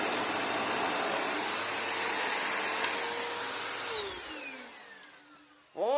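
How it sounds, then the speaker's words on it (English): Several vacuum cleaners run together in a loud, steady whining roar; the motors then wind down with falling pitch as a breaker trips, before a brief burst of noise at the end. "All these vacuums are down and only 2 of them are running."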